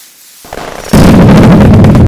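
Fireworks in the video game Build A Boat For Treasure: a quiet lead-in, then a sharp pop and a loud, sustained crackling burst of explosions filling the remainder.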